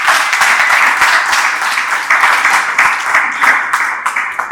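Dense, continuous audience applause fills a Gihuhusi Entertainment anniversary celebration, loud and close, with bursts of clapping swelling and fading throughout.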